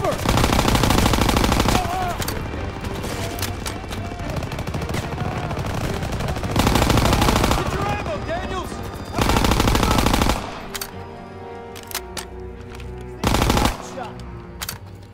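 Thompson submachine gun fire in the World War II shooter Call of Duty: WWII, loud bursts of automatic gunfire coming in several heavy volleys between shorter pauses, with battle noise and shouted voices around.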